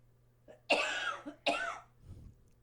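Two sharp coughs close to the microphone, one right after the other, followed by a soft throat sound.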